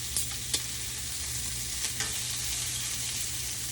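Shrimp searing in oil in a skillet, a steady close sizzle of frying with a few sharp crackles and pops scattered through, no voices.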